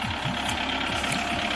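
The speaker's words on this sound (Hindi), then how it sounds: "बिल्कुल साउंड लेस ट्रैक्टर है भाइयों" A Kubota 5501 tractor's diesel engine idles close by with a steady, even mechanical rumble and knock that holds constant throughout, with no speech.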